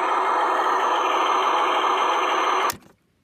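A John Deere 9420 RC model tractor's engine hums loud and steady at close range, then cuts off abruptly, leaving near silence.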